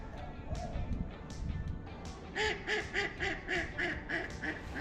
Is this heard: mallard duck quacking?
yes